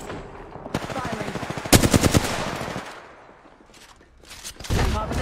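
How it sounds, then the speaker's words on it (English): Rapid automatic gunfire rattles in a battle royale video game, loud bursts of machine-gun fire with a brief lull before another volley, and a player speaking faintly in between. "That's another squad shooting at us."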